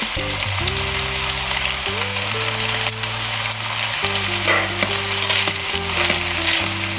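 Chicken pasta sizzles loudly in a pan as tomato-chilli sauce goes in, a constant hissing fry with steady crackle throughout, under a background of held music tones.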